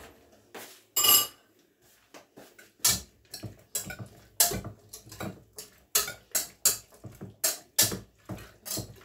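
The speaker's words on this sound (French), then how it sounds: "Je mélange bien." Metal utensil scraping and tapping against a pan while ingredients such as onions are stirred during home cooking, a rhythmic series of sharp clinks and scrapes, close and clear, with no talking.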